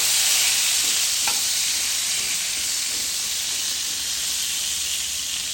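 Yardlong bean vegetables fry lightly in oil in a pan with a constant, loud hissing sizzle. A faint stirring scrape comes once near the start.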